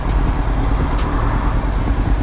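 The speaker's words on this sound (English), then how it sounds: "A lot of traffic" Steady road traffic surrounds a motorcycle, a continuous loud roar of cars and engines with wind rushing past, no one speaking.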